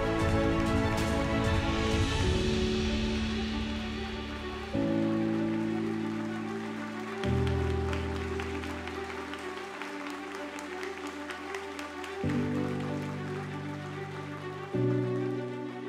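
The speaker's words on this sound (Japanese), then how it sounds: "Please give another big round of applause to our top 5 and for all of our finalists." Steady applause from the audience for the top five finalists at the Miss Universe Japan final, a dense patter of clapping continuing throughout under background music.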